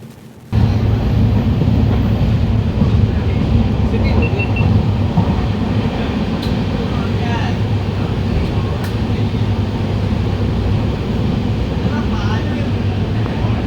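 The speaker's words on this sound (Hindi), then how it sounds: "और हमारी ट्रेन दोस्तों 90 to 100 kmph पर क्रूज़ कर रही है।" From on board the Vasco Jasidih Express cruising at 90 to 100 km/h comes a loud, steady rumble of wheels and carriage with faint rhythmic clicks, starting abruptly and holding throughout.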